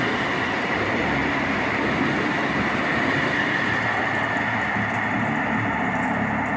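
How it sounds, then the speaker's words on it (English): A city tram rolls past with a steady, continuous rumble and wheel noise that holds level throughout, fairly close and unbroken by any voices. "we just had a tram go past there"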